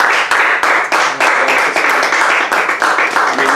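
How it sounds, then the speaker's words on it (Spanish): A church congregation applauds together in loud, dense bursts of clapping that swell and dip rhythmically across the clip. "Y démosle un aplauso al Señor"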